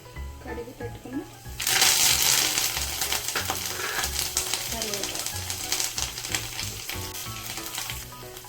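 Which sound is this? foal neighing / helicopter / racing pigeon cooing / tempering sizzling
tempering sizzling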